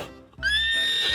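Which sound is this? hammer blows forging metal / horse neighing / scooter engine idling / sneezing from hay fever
horse neighing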